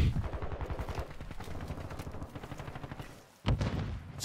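Rapid automatic gunfire in Call of Duty Modern Warfare 2, a fast rhythmic stream of close, punchy shots that pauses briefly before a final loud burst.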